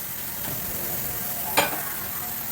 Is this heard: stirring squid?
yes